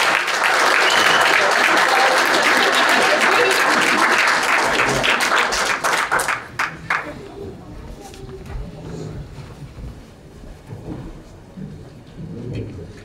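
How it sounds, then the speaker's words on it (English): Loud, sustained applause from an audience at a sheriff's office annual awards ceremony honoring service award winners, dense clapping for several seconds before breaking into scattered claps and fading into room murmur. "just one last round of applause, please"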